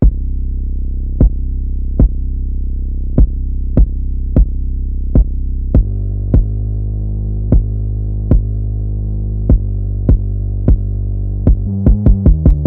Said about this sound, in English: start off with this 808 out of Rio's drum kit called the Mass 808.